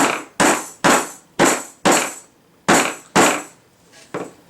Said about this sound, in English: most of the time you can just gently tap these in